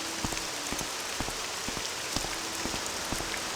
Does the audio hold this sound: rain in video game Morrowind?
yes